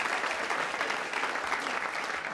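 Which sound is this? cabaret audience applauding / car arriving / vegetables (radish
cabaret audience applauding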